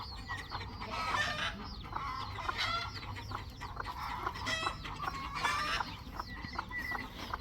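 A flock of chickens and small chicks clucks and chatters busily nearby, with repeated bursts of overlapping calls and squawks over a faint background hum, fairly quiet overall and without any talking.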